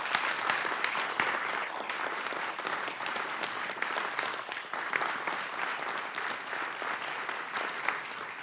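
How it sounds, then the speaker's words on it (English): Steady, dense audience applause at a county board of commissioners meeting, sustained hand-clapping from a large room with no voices over it. "applause, please"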